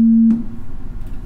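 A loud, pure sine wave tone from an electronic music setup holds steady for about a third of a second, then cuts off and leaves quiet room noise.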